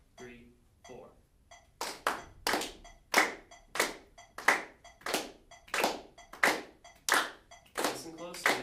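A class claps together in steady unison with a metronome, sharp evenly spaced claps following a few scattered early ones, and a voice briefly speaks at the start.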